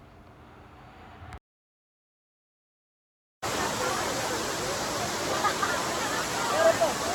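The Abbi Falls waterfall in Madikeri roars as a loud, broad, continuous rush after a brief cut to silence, with faint crowd murmur mixed in at the start.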